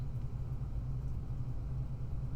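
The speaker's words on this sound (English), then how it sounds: "car's moving. Real slow like." In a video game, a car creeps along slowly with a low, steady engine rumble and a deep hum. The sound is continuous and moderately loud, with no speech.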